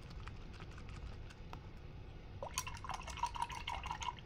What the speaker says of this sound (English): And then I'm going to wash my brush again.